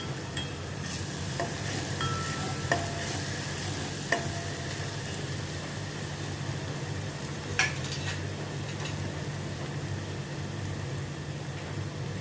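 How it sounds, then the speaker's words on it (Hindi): Stuffed bhindi (okra) sautéing in ghee in a pan over a medium flame: a steady, even sizzle with a few light stirring clicks, and no voices. "घी में थोड़ा सौते करती हूँ, जैसे इसका कच्चापन निकल जाए।"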